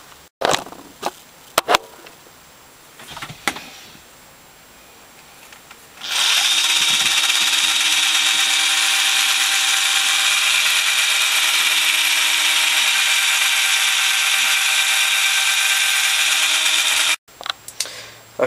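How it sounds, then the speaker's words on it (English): A power drill whirs loudly and steadily for about ten seconds cleaning ports on a BSA engine, after some scattered handling clatter, then cuts off abruptly. "I'll chuck this in the drill and give that a go"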